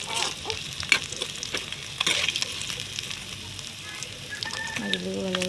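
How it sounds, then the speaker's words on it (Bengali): Pieces of fish frying in oil as they are turned over, a close, steady sizzle with scattered pops and a few spatula scrapes. "উল্টে দেওয়ার পরে মাছগুলোকে আরও ভালোভাবে ভেজে নেব"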